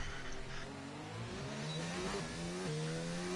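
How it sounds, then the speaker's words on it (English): A Red Bull Formula 1 car in a racing video game revs through rising and falling engine pitches at Monaco, a buzzy high-revving whine heard fairly faintly and continuously without talk. "the Red Bull sound is just, it's one of those unique F1 engine sounds that's completely different from everybody"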